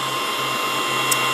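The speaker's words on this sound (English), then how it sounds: "You just give it a push, you'll hear it click, and the dryer is on" A small KISS nail dryer fan runs with a constant, quiet whirring hum and a faint tonal whine, steady throughout the short moment.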